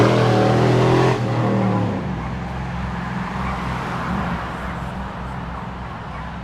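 A junky utility truck with no muffler roars loudly nearby for a couple of seconds, then settles into a rough, steady low rumble in the street.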